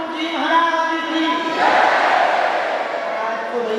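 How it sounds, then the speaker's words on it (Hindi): A large crowd at a Bageshwar Dham divya darbar religious gathering chants in unison, a dense, sustained wall of many voices that swells louder midway and stays steady to the end. "आज तो भैया बहुत भीड़ है"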